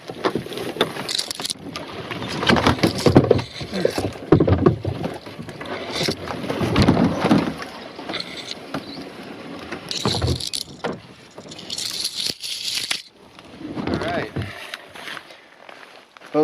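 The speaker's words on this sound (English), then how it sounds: "I'm gonna have to slide the boat over" A canoe is slid over at a lakeside campsite in Algonquin during spring, with irregular scraping and thudding bursts of hull movement mixed with wind and occasional movement noise nearby.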